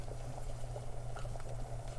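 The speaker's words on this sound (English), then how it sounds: "like I said, that is boiling hot water. As you can see, it is boiling." Water at a rolling boil in a pot: steady, close bubbling and seething with a low hum underneath, continuous and fairly loud, with no talking.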